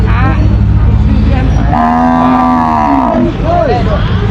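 Farm-raised cattle in Thailand: one cow gives a long, loud, drawn-out moo from mid-clip, over a constant background rumble.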